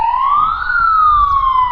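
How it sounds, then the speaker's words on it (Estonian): A loud wake-up siren sounds across a summer camp at 7:15 in the morning, a single rising then slowly falling wail that carries close and strong with no talk over it. "kell on kohe 7:15 ehk annab märku sellest, et kohe terve laager saab äratuse"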